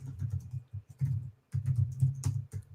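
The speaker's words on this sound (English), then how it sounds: "I am currently typing to him since he can't hear me." Rapid typing on a computer keyboard, with soft, close clacking keystrokes in quick bursts separated by short pauses, quiet and alone.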